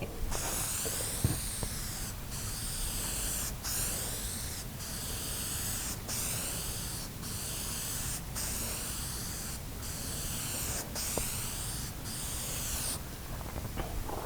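Continuous hissing of an aerosol can of spray adhesive spraying in long bursts onto a van ceiling, with brief pauses between passes, close and steady with no talking.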